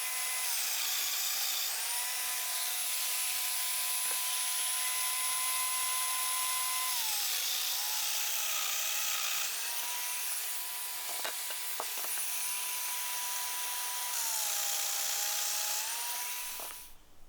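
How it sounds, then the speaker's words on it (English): A domino joiner plunges into wood to cut mortises, its high-pitched motor whining continuously with shifting pitch as cuts start and finish, loud and close with brief clunks between plunges. "I grab my domino joiner and start hogging out mortises."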